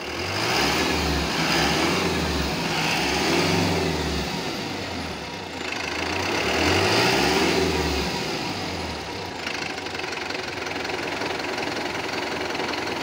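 A Mitsubishi Canter Euro 4 truck engine with an ECU fault is revved up and down several times in a row, a loud, close, rumbling diesel rising and falling in repeated waves before settling toward idle.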